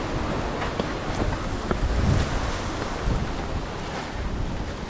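Strong wind roars in a constant, rushing blast, buffeting close by with gusty low rumbles and no voices, on a mountain bike trail in Sariaya, Quezon.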